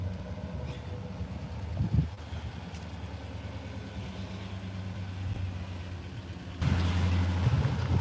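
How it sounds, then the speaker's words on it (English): Brisk wind blowing outdoors during a fitness walk along a street lined with mailboxes, a steady low rumbling buffet over the whole stretch, growing noticeably louder and gustier near the end. "This wind is blowing so brisk."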